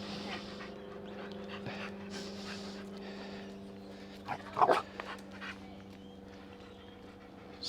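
A dog in training whimpers and pants quietly amid a faint hum, with a brief burst of higher whining cries near the middle.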